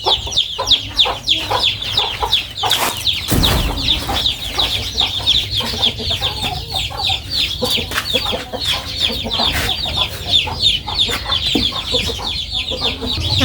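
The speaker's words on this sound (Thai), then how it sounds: "โอ้เสียงไก่เพิ่น" Chickens cluck steadily in a busy flock, with a dense layer of chirping birds and a brief loud knock partway through.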